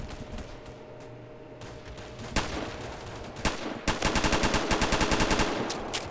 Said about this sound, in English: That's the big sniper rifle.